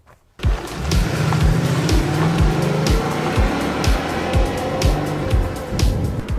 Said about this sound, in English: All right, 0 to 60. I'm just going to floor it.